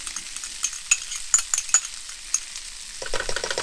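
Garlic cloves sizzling in a pan for bolognese, a soft close crackle with scattered pops, joined near the end by a fuller frying burst.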